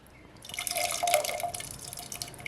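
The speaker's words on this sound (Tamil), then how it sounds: "கொஞ்சமாக புளி கரைச்சி வச்சுருக்கேங்க இந்த புளி தண்ணியை சேர்த்துக்கலாம்" Tamarind water poured into a pot of elephant yam pieces, a light splashing trickle building over about two seconds and then tapering off, close and alone with no talk.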